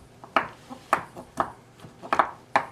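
A knife chopping Belgian white chocolate for tiramisu on a board, seven or so crisp, distinct cuts at an uneven rhythm, close and clear with no speech over them.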